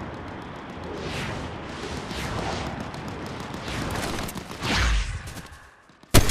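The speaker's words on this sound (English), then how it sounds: "Oh, gunshots, perfect." Gunfire in Fortnite Chapter 5 comes as a rapid spray of shots and rumbling blasts under a steady hiss, growing louder toward a heavier boom, then a sharp close report at the end.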